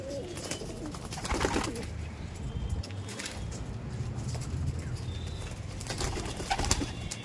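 Racing pigeons in a loft coo steadily at a low pitch, several birds overlapping near and far, with a few flutters of wings and faint background noise.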